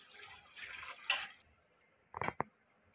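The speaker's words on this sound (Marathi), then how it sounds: "2-3 पाण्याने धुवून घ्यायचं चांगलं." Raw chicken being washed in water in a home kitchen, a soft running wash for over a second followed by a few brief, close splashes and sloshes, with no talk.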